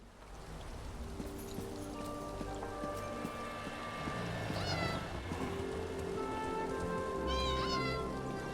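A cat meows in the video game The Elder Scrolls Online, with two short, fairly clear mews over a steady backdrop of rain-like game ambience and soft music tones.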